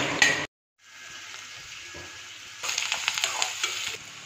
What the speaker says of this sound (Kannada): ಈರುಳ್ಳಿ ಈಗ ಫ್ರೈ ಆಗಿದೆ